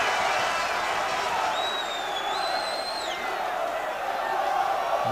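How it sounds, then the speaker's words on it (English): Football crowd of Hereford fans cheers and claps steadily at a 1996/97 league match against Albion, a broad sustained roar with a few whistles rising over it, commentary running beneath. "And that's given something for the Hereford fans to really cheer"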